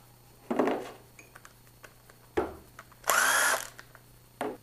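A power tool whirs in short bursts while backing out the three timing chain sprocket bolts on an iron LS1 engine. Separate bursts come close by, the third is the loudest and longest, and metallic clinks sound between them.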